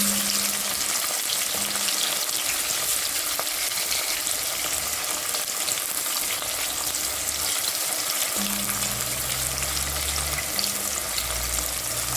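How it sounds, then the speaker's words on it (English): Onions fry in hot cooking oil for vegetarian kidney bean jollof rice, making a strong continuous sizzle with occasional stirring and a low hum in the background. "So my oil has been heating. So let's go in with the onions."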